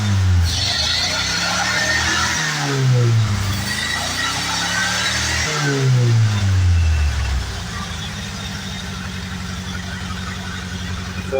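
A Volkswagen 1800cc engine fed by 150cc motorbike carburetors revs up and down twice in loud, rising and falling sweeps, then settles into a steady idle. No one speaks.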